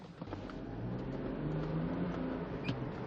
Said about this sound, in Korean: 실력은 또 얼마나 나오는지 제가 한번 살짝 밟아 보도록 하겠습니다